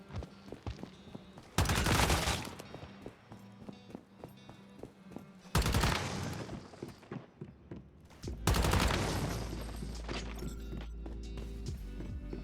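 Gunfire from a player's weapon against a large deviant in Once Human: three separate loud volleys of rapid shots, each trailing into a rumbling decay, with quieter clicks and game noises between them.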